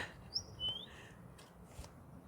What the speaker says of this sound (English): It's a bird, and it's so close to me.